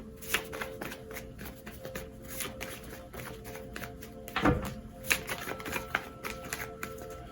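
Tarot cards are shuffled by hand at close range in a quiet room, with repeated riffling flicks, soft slaps and a firmer thump as a card is drawn and set down.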